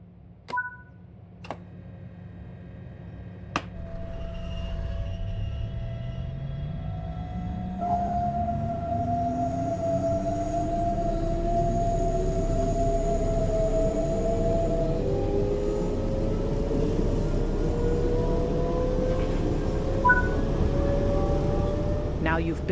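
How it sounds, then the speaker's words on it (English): In Train Sim World 5, a BR423 or BR442 Talent2 electric train pulls away after a few clicks and beeps, its motor whine rising steadily in pitch as it gathers speed, with a low rolling rumble underneath. "The train is now ready to depart."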